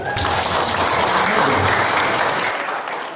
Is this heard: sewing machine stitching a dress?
no